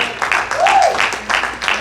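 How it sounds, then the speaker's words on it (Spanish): Applause from a church congregation, a burst of clapping that swells under a sliding tone, with some voices mixed in. "Dale ese fuerte aplauso al Señor."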